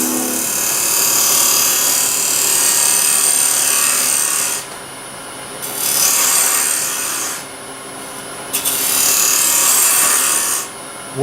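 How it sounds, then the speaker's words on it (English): A parting tool or skew cuts into a spinning wooden ring box on a lathe, making a loud, steady scraping whir in three long passes with brief pauses between them. "I'm going to come back in here with the parting tool, or the"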